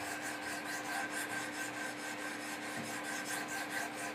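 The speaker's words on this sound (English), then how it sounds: "So I'll pick on one side for just a minute and do a series of scrubbing strokes" Steady scrubbing strokes of sharpening stones on a Wicked Edge guided sharpener working a Benchmade Mini Griptilian knife blade, a continuous close rasping rub repeated evenly with no voices.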